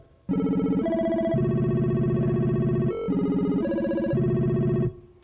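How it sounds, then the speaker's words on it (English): A bright triangle-wave synthesizer plays a steady sequence of sustained tones, shifting pitch every second or so, with a buzzy, effected timbre and no voices. "let's try maybe a triangle wave. Yeah. And I'm gonna take it up an octave too."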